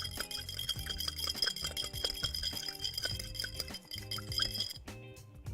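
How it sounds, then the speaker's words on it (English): A whisk beats a maple mixture in a bowl, its wire tines clinking against the sides in quick, steady, repeated strokes that are close and clear, with a short pause near the end. "We're just going to whisk this up."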